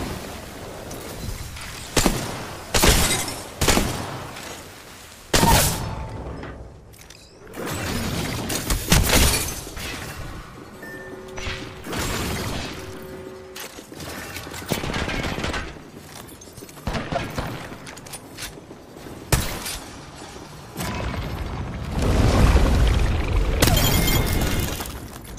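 A Bangalore ultimate artillery strike in Apex Legends pounds down as a long series of loud, crashing impacts and shattering bursts, with quieter gaps and rumbling stretches between the hits.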